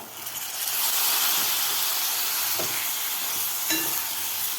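Cut potato goes into sizzling masala with turmeric, and a steady loud frying hiss follows, with a few stirring scrapes and clinks partway through; no talking.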